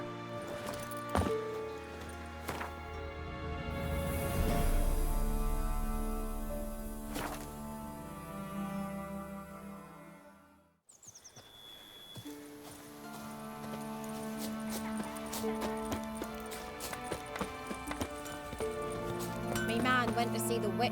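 Hoofbeats of Roach, the horse in The Witcher 3, a quick clip-clop under game music and ambient sound, with a brief pause midway before the steady footfalls resume.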